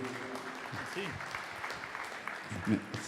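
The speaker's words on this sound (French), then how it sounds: "Je crois qu'on peut l'applaudir." Conference audience applauding after a fintech presentation, a soft, continuous wash of clapping heard at a distance, with a voice speaking briefly over it.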